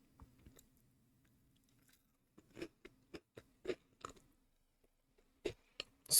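Soft, close chewing of a Kinder Bueno mini bar, a crunchy wafer with a sweet filling, in quiet irregular bites and crackles over a faint low murmur, with a sharper crunch at the very end.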